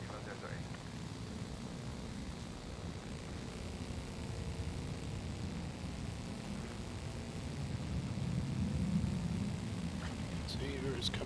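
An EVA Air Boeing 787 Dreamliner arriving from Taipei on approach to land at SFO, a steady distant jet roar that slowly builds louder toward the end, heard outdoors at sunrise.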